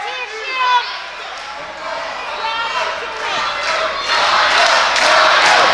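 A crowd at an independent wrestling show in Berwick cheers for Rhyno during a heavyweight title match, rising steadily from scattered voices to loud sustained cheering under a commentator's voice.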